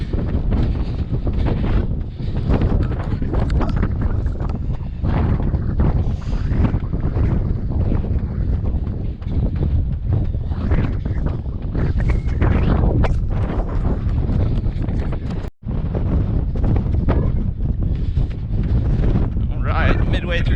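Strong wind buffets the microphone during a run across a bridge on Gajo Island, South Korea, a loud, continuous roaring rumble with gusting surges and one brief dropout.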